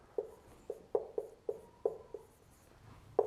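A pen writes the word perpendicular, a series of about nine short, soft scratchy strokes spaced irregularly, close and quiet.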